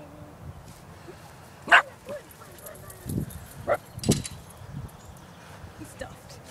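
Dachshund barks outdoors in a few short, sharp bursts spread across several seconds, mid-distance, with faint voices and background noise between them.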